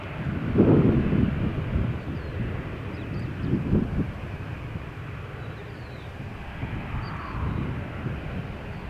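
An airliner takes off from runway 13 at Malaga Airport on a stormy morning, heard as a broad, sustained engine roar mixed with gusty wind buffeting the microphone, fairly loud and steady throughout.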